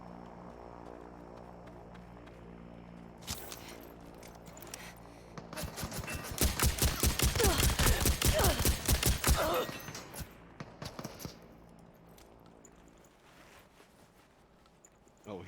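Rapid burst of gunfire from a distant player in the Super People battle royale game, a dense run of sharp cracks lasting a few seconds over ongoing game noise, with players talking around it.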